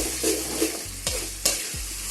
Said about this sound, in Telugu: దీంట్లోనే మిరియాలు జీలకర్ర పేస్ట్ మొత్తం పచ్చివాసన పోయేంత వరకు ఫ్రై చేసుకోవాలి